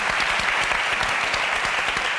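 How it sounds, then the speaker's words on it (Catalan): Steady, dense applause from a television studio audience on a Catalan talk show, a continuous roar of many hands clapping close and full throughout, with no talking. "un aplaudiment per la Susana Bas, sisplau."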